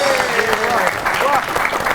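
A studio audience on a comedy talk show claps to welcome a guest, dense applause with a voice speaking over it and a faint tonal line running underneath.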